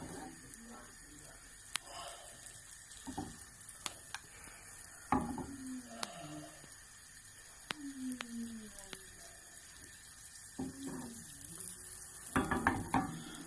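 Butter melting in a bevelled stainless steel saucepan while a spoon keeps it moving, giving soft scrapes and scattered sharp clinks against the metal over a quiet background, with a voice talking at times.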